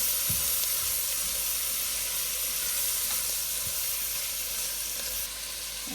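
Celery and other clam chowder ingredients sizzle in a hot pan, a steady close hiss and crackle with a few faint clinks of a utensil and no talking.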